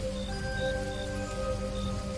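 Steady rain falling in a Hindi horror audio story about a rickshaw stopped with a broken chain, a continuous hiss of rainfall under a low sustained eerie musical drone.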